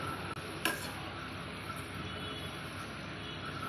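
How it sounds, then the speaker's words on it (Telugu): Sweet corn pakodi frying in hot oil, a soft, steady sizzle with a single clink of a utensil early on. "గోల్డ్ కలర్ వచ్చేంత వరకు మనం వేయించుకోవాలి."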